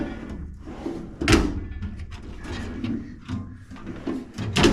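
A drawer on a 27-inch U.S. General rolling toolbox from Harbor Freight sliding open and shut, with metallic rolling and clunks, a sharp bang near the start and another at the end, close and fairly loud.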